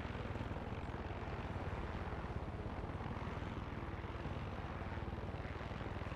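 A helicopter in Far Cry 6 drones with a dense, even rotor and engine roar, loud and constant throughout with no talk.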